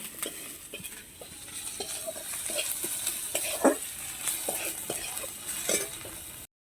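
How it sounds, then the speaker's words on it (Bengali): Garlic paste stir-fried with browned onions in a pan, a steady soft sizzle under scraping stirs and occasional utensil clinks against the pan, close and moderately quiet. "ভালো করে রসুন বাটাটা নাড়াচাড়া করে নেব"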